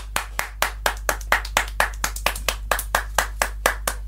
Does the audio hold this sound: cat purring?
no